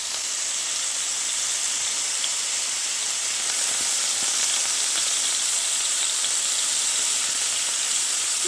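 Seasoned chicken coated in paprika, garlic powder, onion powder, salt and pepper sizzles and fries steadily in a pan, a close, continuous bright hiss with faint crackles throughout.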